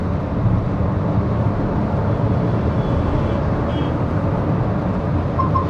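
Maruti Brezza 1.0 turbo petrol manual heard from inside the cabin at high revs above 3000 rpm, a steady dense drone of engine and road noise that stays constant and fills the cabin, with no talking.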